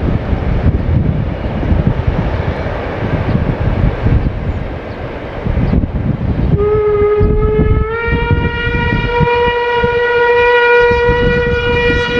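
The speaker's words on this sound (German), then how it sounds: "Bei der Überquerung der Freiberger Mulde begegnet uns der Zug erneut." A steam train rumbles loudly nearby crossing a bridge over the Freiberger Mulde, and partway through a long steady whistle sounds and holds to the end.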